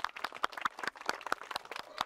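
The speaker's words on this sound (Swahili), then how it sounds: "Makofi." Scattered hands clapping at a youth sports gathering, sharp uneven claps in a light spread, moderately close and not very loud, with no talk over it.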